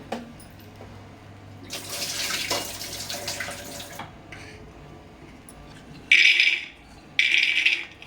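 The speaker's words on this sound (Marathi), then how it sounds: "त्यातलं पाणी काढून घेऊया" Water from soaked chickpeas splashes and pours out for a couple of seconds, then after a pause two short, louder gushes of draining water follow. There is no talking.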